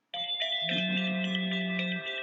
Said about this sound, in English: I'm getting a phone call here.